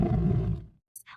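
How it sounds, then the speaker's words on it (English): A lion's deep, rumbling roar swells and fades over under a second, followed by two brief high-pitched electronic blips. "This is a lion. Repeat, a lion. A lion says,"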